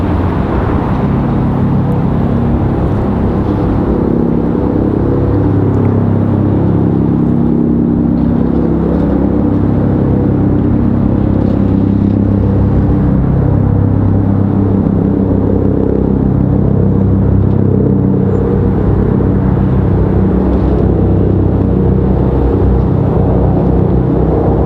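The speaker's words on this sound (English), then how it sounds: "Sounds like another medevac chopper flying over." A medevac helicopter flies over near Raleigh-Durham International Airport, a loud continuous low rotor and engine rumble that holds steady for the whole stretch with no talk.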